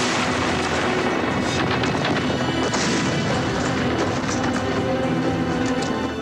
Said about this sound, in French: 3 petits mortiers feront éclater le cockpit.